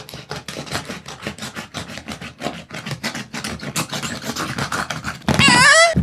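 Rapid scratchy rasping strokes from the jagged edge of a can sawing through packaging around an illustrated Lord of the Rings edition, close and steady, ending in a brief louder crinkling tear.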